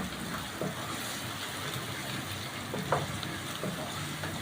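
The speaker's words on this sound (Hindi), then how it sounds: "अब मैं इसमें 2 टेबल स्पून लहसुन अदरक का पेस्ट डालूँगी।" Garlic-ginger paste sizzles in hot oil with onions for a dhaba-style white bean curry, a steady close frying hiss with occasional soft stirring knocks and no talking.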